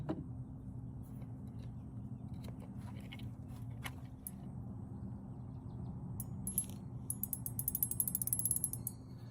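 Fly line drawn off a clamped spool onto a Hardy Ultraclick reel mounted on a 4wt Redington Butter Stick rod butt, giving a steady mechanical ratcheting click that runs throughout and grows busier toward the end.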